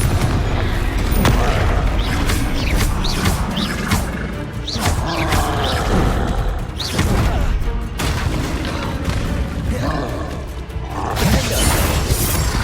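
Hogwarts Legacy combat with the Confringo fire-blast spell: a dense, continuous barrage of booming explosions, crashes and shattering impacts, loud and close, with mechanical whooshes layered throughout.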